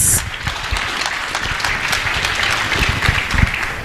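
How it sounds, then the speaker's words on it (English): A conference audience at a national cooperatives conference gives a round of applause, steady dense clapping with a few sharper claps standing out, moderately loud and continuous. "let's give him a round of applause."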